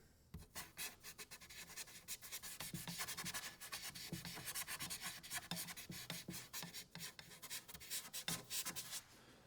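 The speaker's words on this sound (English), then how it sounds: "Then we're gonna bring the kneaded eraser into, or some sort of eraser to carve out the lighter limbs there." A kneaded eraser rubs back and forth across a charcoal sketch on paper, quiet and close, in steady scratchy strokes with short pauses between them.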